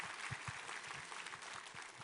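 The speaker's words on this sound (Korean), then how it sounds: "우리 하나님께 감사와 영광의 박수를 올려드리겠습니다" A church congregation claps during a worship service, a soft and fairly distant patter of many hands that stays even and unbroken, with no talking.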